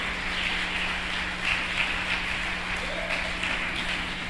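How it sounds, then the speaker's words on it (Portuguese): A church congregation applauds together at the close of a sermon, a steady wash of clapping that stays even and moderately loud throughout, with a low electrical hum underneath. "Diga amém e aplauda Jesus bem forte então"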